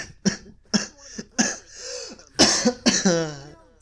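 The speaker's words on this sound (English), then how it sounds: "I have a very subtle cough." Several short, sharp coughs and throat clears come in bursts, close and dry, with brief gaps between them and a longer rasping fit near the end.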